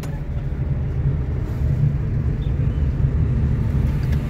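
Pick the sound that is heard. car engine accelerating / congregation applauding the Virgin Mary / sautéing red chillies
car engine accelerating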